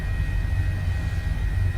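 H145 helicopter in Microsoft Flight Simulator, flying over the Scottish Highlands near RAF Lossiemouth: a steady, loud low-pitched rotor and turbine drone with a constant high whine, continuous throughout.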